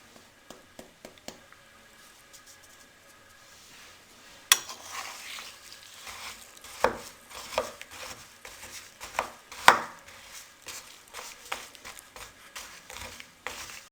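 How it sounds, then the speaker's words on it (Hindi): A spoon stirs jaggery into warm water in a pot or bowl, with irregular clinks and soft scraping strokes, fairly quiet and close, no talking. "अब चम्मच की मदद से इसको हम अच्छे से मिक्स कर लेंगे।"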